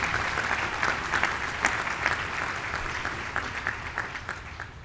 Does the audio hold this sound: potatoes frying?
no